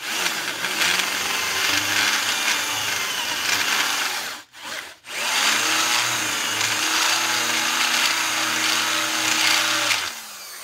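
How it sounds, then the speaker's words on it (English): A worn spot facer grinds into a Pontiac 400 engine block, a loud steady power-tool whine with droning harmonics that stops briefly twice near the middle before resuming, then cuts off at the end. "now I'm going to spot face it"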